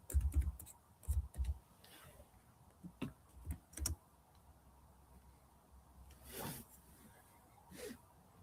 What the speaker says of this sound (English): Sometimes we have to type this stuff out.